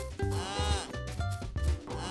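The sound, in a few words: voice imitating a cow mooing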